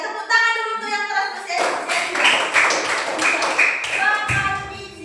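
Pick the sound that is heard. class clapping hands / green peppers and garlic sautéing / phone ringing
class clapping hands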